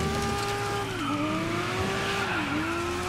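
A BMW M1 engine in the Dirt 5 racing game holds a loud, sustained high-revving howl, its pitch dipping twice briefly as gears change, with no talk over it.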